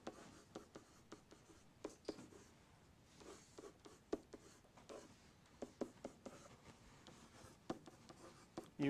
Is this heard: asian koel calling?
no